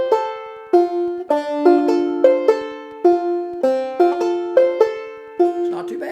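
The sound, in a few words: banjo playing a roll on open strings, Jaqueline's Dream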